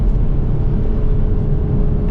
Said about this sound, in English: It's proper pops and burbles too.